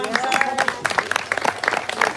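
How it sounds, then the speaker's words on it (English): A live crowd applauds after a gator demonstration at an outdoor animal show, scattered claps and crowd noise rising under cheering voices and chatter, moderately loud and close. "Guys, give him a big round of applause."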